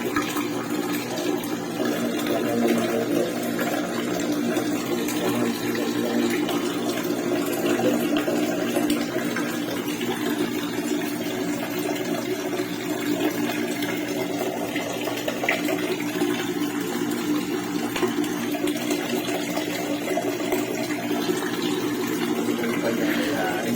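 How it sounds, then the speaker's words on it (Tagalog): Strong, steady flow of running water pouring continuously into a catfish tank setup, loud and close with a dense, unbroken rush throughout. "Malakas yung ano na eh. Yung bugay ng tubig."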